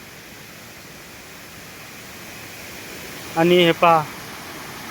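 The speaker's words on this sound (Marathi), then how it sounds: "इथं एक लहान धबधबा आहे ह्या ठिकाणी" A small waterfall pours in a steady, even rush of water close by, with someone speaking briefly near the end.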